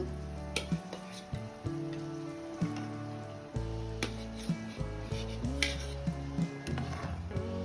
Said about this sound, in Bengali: নাড়াচাড়া করে নেবো এবার দিয়ে দেবো একে একে ডিমগুলো